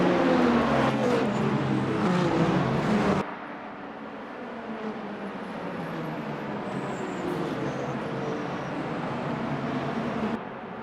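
Engine of a Porsche 963 race car in Le Mans Ultimate, a steady hum at racing speed with shifting pitch, loud and close at first, then quieter and more muffled for most of the stretch.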